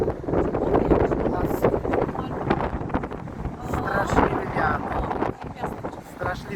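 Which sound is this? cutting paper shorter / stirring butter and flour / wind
wind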